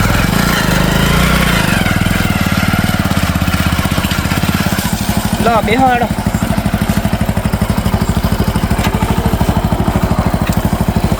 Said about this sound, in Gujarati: આ બાઈક થોડું કાઢું પૂરું બહાર કાઢી દો